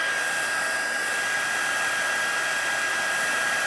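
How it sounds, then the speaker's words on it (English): Heat gun blasting at its highest setting during a puff-paint craft project, a loud, steady broadband whoosh of blown hot air running continuously and close, with no talking. "So I have my heat gun. And I'm going to put it on the highest setting."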